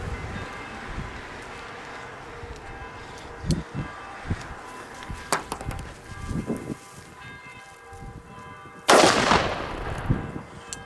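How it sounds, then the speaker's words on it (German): Feistel Tannenwald Super A firecrackers go off outdoors: several sharp separate bangs at irregular intervals, ending in one louder blast with a trailing rumble. "Muss ich sagen, zünden wir mal an und gehen in Deckung."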